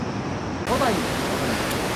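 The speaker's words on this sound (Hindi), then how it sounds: "एक और झरना वहाँ पे दिख रहा है, बड़ा शानदार सा झरना है" A large waterfall beside the trail on the Pindari Glacier trek, just below Phurkia in Uttarakhand, gives a steady broadband rush of falling water, loud and continuous, with a brief faint voice-like sound over it.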